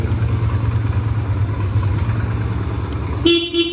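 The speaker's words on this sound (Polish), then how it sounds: "klakson" Yamaha XV 125 Virago motorcycle horn, one short loud toot near the end over a steady low idling engine rumble.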